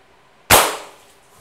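A single sharp pellet gun shot fired at a very shallow angle across water, hitting with a loud, abrupt crack that then decays over a fraction of a second, with no talk around it.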